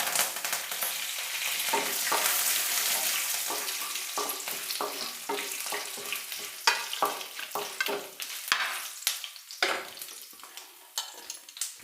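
Curry leaves fry in hot oil in a pan while being stirred for a bitter gourd and potato dry roast, giving a steady close sizzle with repeated scraping stir strokes and no talk.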